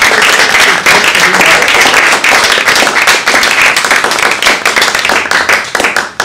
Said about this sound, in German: diesen beiden Damen einen grossen Applaus